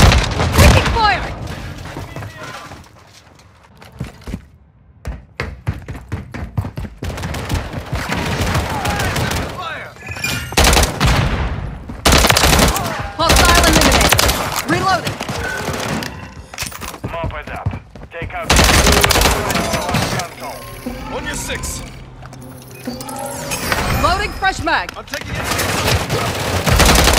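Heavy gunfire fills a Call of Duty: Modern Warfare 3 War Mode battle, with bursts of automatic rifle fire, sharp single shots and booming explosions coming in rapid, uneven clusters, loud and close, while soldiers shout over the combat.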